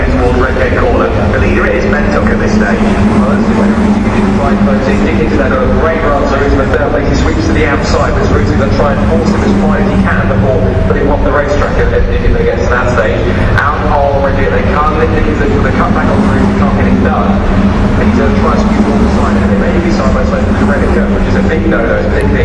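Caterham Supersport race cars at Donington Park race along the straight toward the braking zone, a dense, continuous engine drone filling the whole stretch under steady race commentary.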